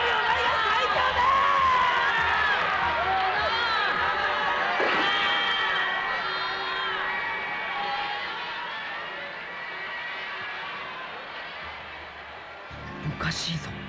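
A large stadium crowd at a soccer match in the anime Captain Tsubasa cheers and shouts in a continuous roar, with voices rising and falling in the background throughout.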